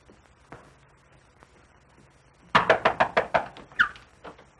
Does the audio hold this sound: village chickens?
no